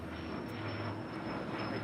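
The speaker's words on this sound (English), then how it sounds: "That is United Airlines flight 2318, this 777-200." A United Airlines Boeing 777-200 arriving from Newark lands at LAX on the north-side runway 24R, heard as a steady, faint jet roar at a distance, with no voices.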